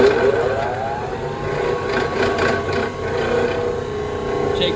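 A woodworking disc sander starts up and runs with a steady, continuous motor drone and a high whine. It stays fairly loud and close throughout, with no talking.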